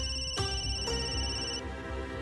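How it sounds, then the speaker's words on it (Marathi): A telephone ringtone rings out in a scene from a Marathi TV serial, its electronic melodic tones repeating through the clip against faint room background, with no talk over it. "सौरभचा फोन"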